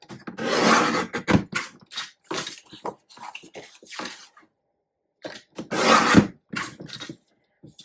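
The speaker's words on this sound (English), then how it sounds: "So all I do is trim away the edges of this." Scrapbook paper being trimmed at the edges, with bursts of scraping, rasping cuts and rustling separated by short pauses, close and fairly quiet.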